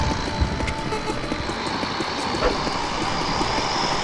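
Airplane engine drone from a flyover in the Roblox game War Tycoon, a steady broadband roar holding at a constant level for a few seconds with no talk.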